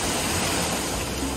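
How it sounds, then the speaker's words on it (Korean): A waterfall pours down beside a natural hot spring in a forested mountain valley in China's Yunnan–Sichuan region, a steady, loud, close rushing roar with no voices. "정말 이런 대자연 속에 폭포수가 쏟아져 내리는데 온천을 즐길 수 있다는 건 상상도 못했습니다"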